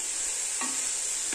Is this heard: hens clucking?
no